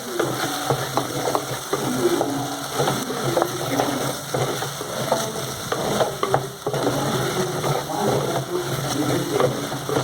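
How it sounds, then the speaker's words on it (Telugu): Spiced cauliflower and potato curry being stirred in a hot pan: continuous oil sizzle with repeated scraping and clinking from the spoon, fairly close, with no talking. "ఇదంతా బాగా మిక్స్ చేసుకోవాలి."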